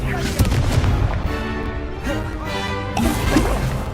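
Spell blasts from the Confringo fire spell in Hogwarts Legacy: dense, booming bursts of gunfire-like crackle filling the clip, with a player's excited voice talking and shouting over them.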